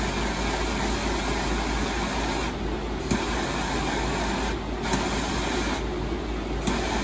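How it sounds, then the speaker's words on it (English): A torch heats a steel knife blade before heat treating, giving a loud, steady broadband roar that runs unbroken throughout with no talking. "I'm gonna torch this, make it dry just enough where I know it won't move at all."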